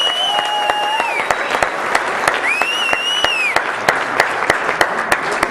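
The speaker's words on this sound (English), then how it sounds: "A big round of applause." An audience at a UFO-themed talk gives a speaker a round of applause: close, individual claps ring out over a softer crowd background while a wavering, whistle-like tone rises and falls over the clapping.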